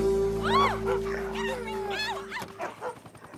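Several short dog barks and yips in quick succession, fairly close, over a steady background hum, with a few scuffling sounds toward the end.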